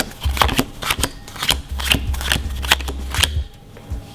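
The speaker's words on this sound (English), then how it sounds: "get used to like almost snapping off the top card and just like snapping it down on the table" Playing cards snapped sharply down onto a table during a bottom deal, about eight crisp slaps in a steady rhythm, close and fairly loud, with a soft low hum beneath.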